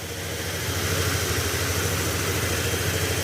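A motorcycle engine idles steadily while warming up with its air cleaner not yet fitted, a constant close, loud, even hum with no voices.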